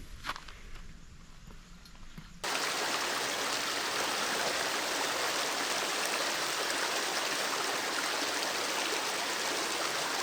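River water rushing over Cahills Crossing in Kakadu, a dense, loud, continuous roar that swells in after a quieter opening couple of seconds and holds steady.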